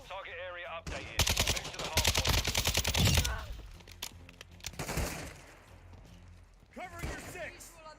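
Rapid AK rifle fire in the video game Modern Warfare II, a close, loud burst of shots lasting about two seconds, followed by scattered shots, with someone talking before and after.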